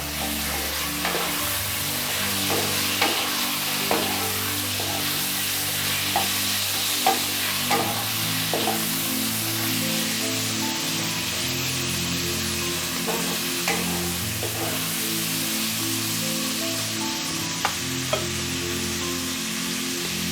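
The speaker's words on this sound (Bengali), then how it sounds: "চিকেন দিয়ে আমি একটু নাড়াচাড়া করে নেবো অল্প।" Around 300 grams of boneless chicken fries in a kadai with a loud, continuous sizzle. Repeated scraping strokes of a stirring spoon recur throughout, over a low steady hum, with no voices.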